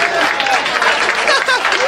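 Audience applause at a stand-up comedy show, a steady wash of clapping from the crowd with some voices mixed in over two seconds.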